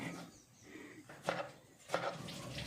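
Knife chopping ingredients for coconut chicken on a kitchen board, two sharp, close cuts standing out above quieter background handling noise, with no talk.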